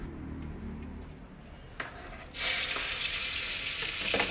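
Frying pork in plenty of oil. Quiet ticks are followed by a sudden loud burst of sizzling about halfway through, which then holds as a steady, close crackle.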